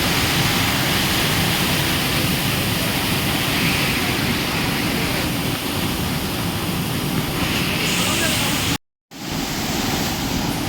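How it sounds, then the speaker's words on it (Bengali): Steady broadband rush of water pouring down beside a path on the way to Cherrapunji in Meghalaya, loud and continuous with a brief dropout near the end. "এখান দিয়ে জল পড়ছে সব।"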